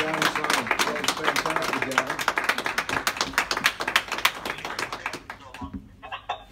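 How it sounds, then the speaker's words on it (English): Dense, rapid clapping from an audience follows a performer's act, sustained for several seconds before thinning out near the end, with a voice speaking over it. "let's do a round of applause for Johnny Simon"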